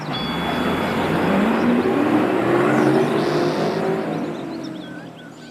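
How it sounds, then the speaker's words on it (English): A bus drives past close by, its engine rising in a revving whoosh and then fading gradually toward the end, with no talking. "She's going on the bus."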